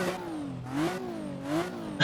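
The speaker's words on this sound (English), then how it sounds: "Let's test if the Supra sound works" A modded Toyota Supra engine in Assetto Corsa revs in repeated rising and falling sweeps, a close, tonal exhaust note climbing and dropping about three times in quick succession.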